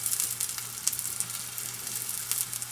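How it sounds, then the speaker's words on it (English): Rajma paratha, an Indian flatbread of red kidney beans, fries in oil on a skillet with a soft, steady close sizzle and faint crackles, with no voices. "we'll add a little bit of oil here"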